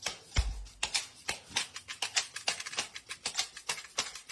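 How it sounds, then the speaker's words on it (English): Snare drum percussion from a played recording, a rapid run of crisp, fairly faint hits in a busy, slightly irregular rhythm, opening with one heavier thump and carrying no speech. "snare drum"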